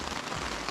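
Rain falls on a tent on the Appalachian Trail, a steady close patter of drops over a brief moment, with no voices.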